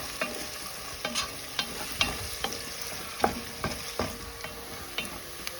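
Chopped onions frying in hot oil in a pan, a continuous close sizzle broken by regular scraping taps of a spoon stirring through them.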